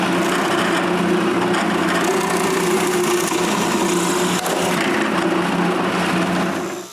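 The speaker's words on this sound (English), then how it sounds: "drilling wood is easier than drilling hardened steel" Power drill boring into wood blocks for board spacers in a home workshop, a steady high whine with woody grinding, close and continuous for several seconds before winding down.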